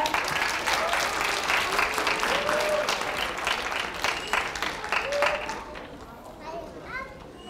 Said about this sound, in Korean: 우리 강연해 주신 단장님 큰 박수 모시겠습니다.